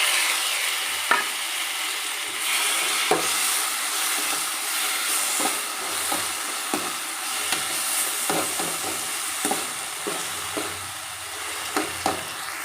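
Onions and curry leaves sauté in a pan with a continuous loud sizzle, broken by repeated scraping stirs about every second, close and alone without talk.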